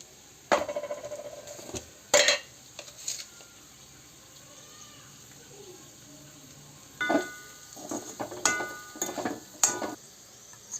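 Liver fry with chilli powder is stirred in a pan over low flame, a faint sizzle underneath and several sharp metallic scrapes and clinks of the spoon against the pan in irregular bursts.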